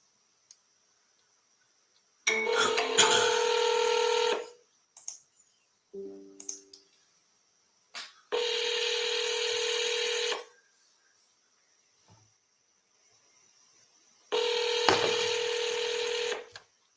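Three separate bursts of telephone dialing tones, each a steady two-second run of loud keypad tones close up, with small clicks between them and no talk.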